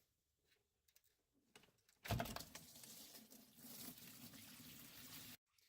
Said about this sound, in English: You can hear the antifreeze dripping in the background